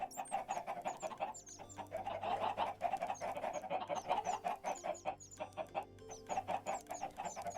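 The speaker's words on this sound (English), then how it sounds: "If only they weren't clucking." Chickens cluck in the Minecraft video game, giving a busy layer of repeated clucks and high chirps over a low steady hum, moderately close and with no talk.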